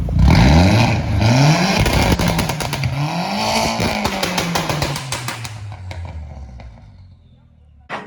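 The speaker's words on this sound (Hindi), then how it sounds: "अभी ये वोल्वोट्रॉनिक एग्जॉस्ट का रिमोट है, ये ऑन है तो ये अभी रेव करना" A stage 2 tuned Skoda Octavia vRS with a Valvetronic exhaust set open is revved hard several times, loud and close, with sharp rising and falling engine notes and crackling pops. The revving fades toward the end.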